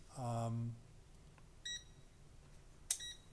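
A multimeter's continuity tester chirps with a short tonal beep, then gives two brief electronic blips a moment apart, each close and clear against quiet room noise.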